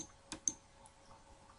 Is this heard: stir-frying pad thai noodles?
no